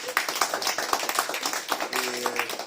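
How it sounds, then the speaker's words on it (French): Sunday church service congregation clapping to welcome a newcomer named Adrien, brisk irregular handclaps from a modest group, close and steady, with a brief tonal murmur of voices near the end. "Bienvenue, on applaudit Adrien."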